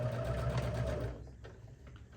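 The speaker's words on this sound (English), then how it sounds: "But I could still sew over it, no problem." A sewing machine stitches a fabric tote bag, running straight over an upside-down forked pin with a steady, close, fast mechanical whir for about a second before stopping, leaving faint room noise.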